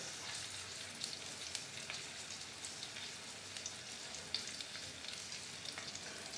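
Ginger, cinnamon, cloves, pepper and cumin fry in a pan with a soft, steady sizzle and scattered light crackles and pops, fairly quiet and uninterrupted.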